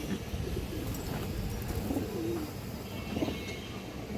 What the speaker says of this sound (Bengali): এই দেখেন কবুতর দেখেন দর্শক